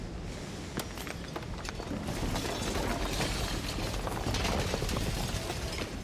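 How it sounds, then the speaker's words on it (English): A dense, crackling shatter from the video game Slay the Princess, sharp brittle cracks over a grinding, rumbling wash that swells and holds for several seconds, with no voices. "And then the shattering"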